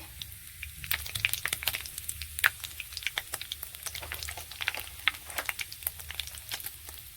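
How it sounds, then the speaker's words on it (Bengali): Bay leaves and dried red chillies sizzle in hot oil for a tempering, a steady crackling spatter with scattered sharp pops and a low background hum, close and fairly quiet, with no talking. "দুটো তেজপাতা, দুটো শুকনো লঙ্কা ফোড়নে দিয়ে দিচ্ছি।"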